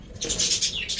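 Satin pigeons in a loft flutter their wings in a quick burst of flapping with soft bird sounds, close by and fairly loud over about a second.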